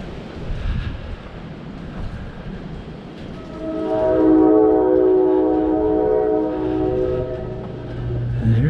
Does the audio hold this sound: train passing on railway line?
yes